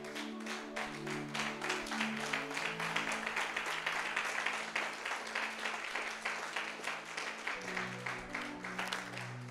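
A church congregation applauds and acclaims the Lord, steady dense clapping that runs throughout at a moderate distance, while a sustained musical tone hums underneath.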